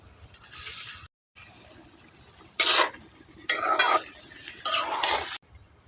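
Spices for a fish curry fry with ginger-garlic paste and a splash of water in a pan, stirred in scraping strokes over a hissing sizzle that swells in several loud bursts, with one brief silent gap.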